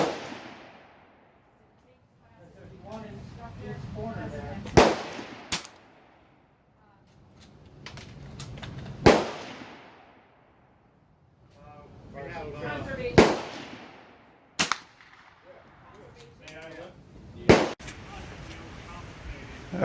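Gunshots from an M44US bolt-action .22 rifle ring out as sharp, loud cracks a few seconds apart, about five or six in all, over steady outdoor background rumble.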